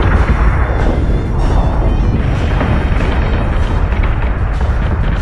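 Warship gun batteries in Battlestar Galactica Deadlock fire without pause, a loud, dense roar of booming blasts rumbling together with no gaps between shots.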